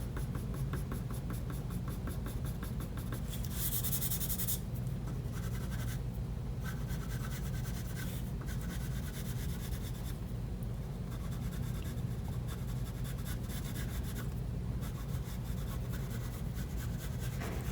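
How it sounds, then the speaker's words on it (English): A soft 7B graphite pencil scratching and rubbing across paper, shading the curved stem of an acorn drawing in a continuous close, steady rasp with short strokes and brief lifts. "we'll just draw just some curvature to this as well"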